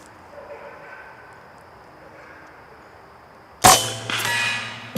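A .25 caliber PCP air rifle fires once at a small chunk of block on a barrel: a sharp, loud crack after quiet outdoor ambience, followed by a brief ringing tail and a faint second impact.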